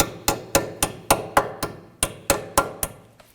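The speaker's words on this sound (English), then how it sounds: "I'm going to use my hammer and try and rotate this around." A hammer taps a metal clip on a 2008-2011 Ford Focus during front left CV axle replacement, about a dozen times at a steady, brisk pace, each sharp ringing strike close up, fading slightly toward the end.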